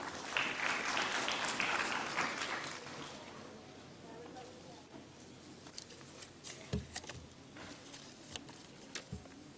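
Audience applause at a national highways awards ceremony in Vigyan Bhawan, a broad wash of clapping that is strongest at the start, then fades into scattered claps and thumps.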